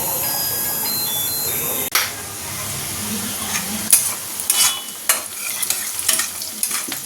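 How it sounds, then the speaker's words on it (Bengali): Chicken curry reheating in a pan, with a steady sizzle and scraping, clattering stirring strokes that come in uneven bursts, close and moderately loud, with no talking. "সকালের চিকেনটা ছেড়ে ওটাই গরম করছি"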